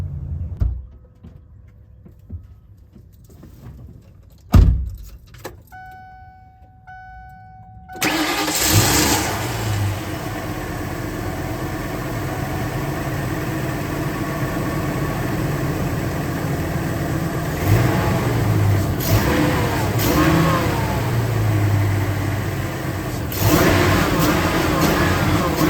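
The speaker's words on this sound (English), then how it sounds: "Let's go ahead and start the engine back up and see if it made any difference." A Ford E-Series shuttle bus converted to an RV, just repaired for an exhaust manifold leak, cranks over and catches. Its engine then runs steadily and loudly, with a few revs rising above the idle.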